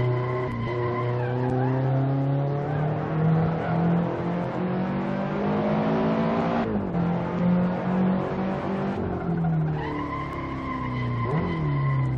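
A race car in Assetto Corsa at Magione brakes hard and skids, with a loud continuous tire squeal over the engine's whine and downshifts. The pitch sweeps several times, close and sustained throughout.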